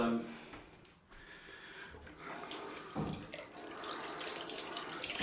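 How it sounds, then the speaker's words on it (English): Cold tap water runs into a sink during a head shave, a close, splashing stream that varies in strength and briefly cuts off before resuming. "cold water on the alum"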